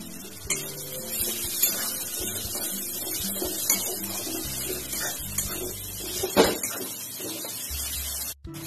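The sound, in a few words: pouring spice-rinse water into chicken kosha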